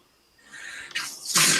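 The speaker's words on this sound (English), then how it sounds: "Tell me that's not a toddler sneeze." A single toddler sneeze: a short wheezy intake of breath, then a sharp, loud burst of air, close up.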